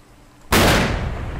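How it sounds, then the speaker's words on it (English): A single loud rifle shot fired by accident in the Cabela's Hunting Expedition video game, a sudden blast after near quiet that rings out and slowly fades. "this is where I pulled a stupid maneuver and fired my weapon on accident"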